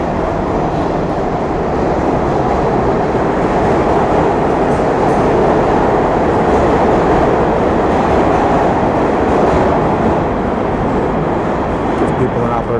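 A New York City subway train rumbles steadily and loudly throughout, a dense, continuous roar of rail noise with faint voices mixed in underneath.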